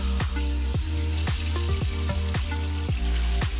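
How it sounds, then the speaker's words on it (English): Chicken pieces with honey, soy and spices frying in a hot oil pan outdoors on the road, a loud continuous sizzle with sharp crackles and pops recurring about every half second. "When you see a little bit of smoke coming up and you hear the oil sizzle a bit, that's when it's ready. Let's put our chicken in."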